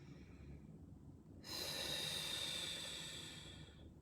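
A person taking one deep diaphragmatic breath, hands on the lower ribs: a quiet pause, then a long, close, airy breath that swells suddenly and slowly fades over a couple of seconds.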